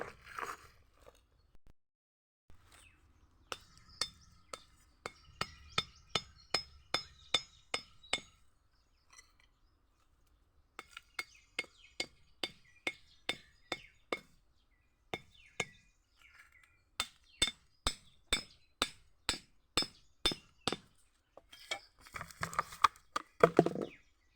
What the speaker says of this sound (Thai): นี่ตอกลัก